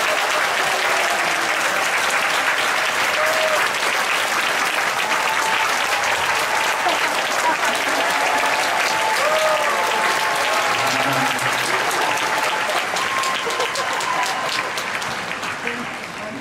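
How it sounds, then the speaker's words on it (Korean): Church congregation applauding steadily throughout, a dense, sustained wash of clapping from a large group that fades slightly at the end. "사랑하는 마음을 담아서 우리 힘찬 박수로"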